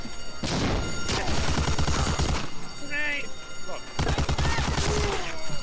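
Gunfire in the World War II shooter Medal of Honor: Allied Assault, dense rapid shots and bursts running nearly throughout, with a brief lull and a short tonal game sound in the middle, loud and close.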